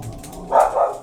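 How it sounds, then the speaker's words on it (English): Pet dogs bark indoors, two quick muffled barks from a nearby room against a quiet background, with no talking over them. "Please excuse my dogs, they are just going absolutely crazy right now."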